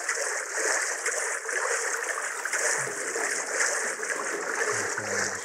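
Steady rushing, bubbling water as a character swims through a lake in Dark and Light, continuous and close with no talk.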